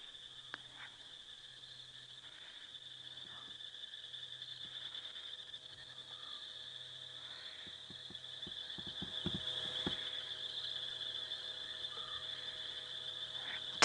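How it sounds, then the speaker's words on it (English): Rain frogs call at night on a safari road, faint repeated clicks and chirps over a steady insect drone, with a low rhythmic pulse and a few sharper ticks growing slightly louder toward the end. "A lot of what you're hearing now, though, is rain frogs."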